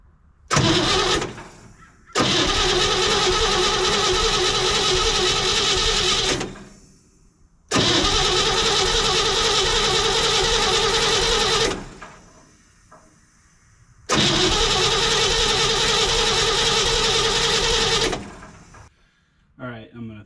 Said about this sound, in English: This engine's been sitting for a while without oil, so before I connect the ignition, I'm going to turn it over a little bit